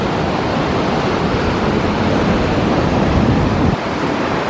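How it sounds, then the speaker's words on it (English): Rushing whitewater on a rafting course in Columbus, Georgia, a steady broadband roar of churning water, loud and continuous throughout, dipping slightly near the end. "This is the world's longest whitewater rafting course"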